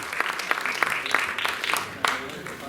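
Scattered applause from an audience at a film trailer launch event, a few light bursts of clapping rising and fading over a couple of seconds while a voice talks over it.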